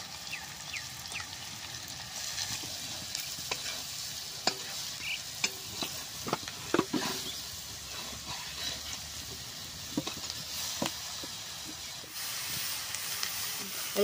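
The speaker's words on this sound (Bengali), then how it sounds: "ভালো করে এইভাবে ভেজে নেব" Food fries and gets stirred in a pan, a steady sizzling hiss broken by repeated scraping and clinking strokes of the utensil, close and continuous with no talk.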